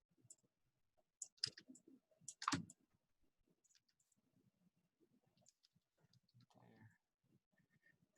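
A computer mouse clicked while selecting UV shells during a skinning lecture, with a few quick isolated clicks and a short burst of clustered clicks, quiet and close, between soft stretches of talk.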